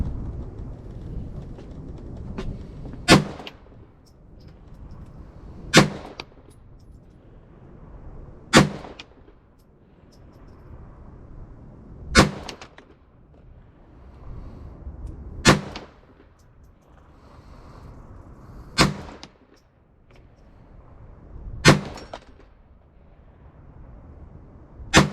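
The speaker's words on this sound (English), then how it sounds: "Do you want to keep shooting the semi-automatic?" .22 semi-automatic firearm shots at an outdoor range, eight sharp single cracks spaced a few seconds apart, loud and close, with a low rumbling background between them.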